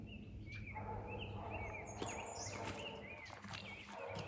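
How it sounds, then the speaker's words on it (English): Oriole song rings out in a series of short, whistled, bouncing phrases, moderately close against a faint, busy background of other birds and ambient noise. "So here are orioles."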